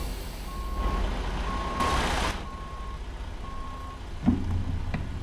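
A truck in American Truck Simulator backs up with steady, evenly spaced reversing beeps over a continuous low engine rumble, with a brief hiss partway through and a short knock near the end; no speech.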